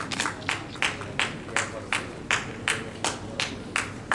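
Award ceremony audience applauding as a guest comes on stage to receive a shield, with steady, evenly spaced claps over a faint room hum, fairly distant.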